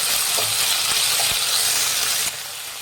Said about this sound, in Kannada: ಇದನ್ನು ಮೀಡಿಯಮ್ ಫ್ಲೇಮಲ್ಲಿ ಫ್ರೈ ಮಾಡಿ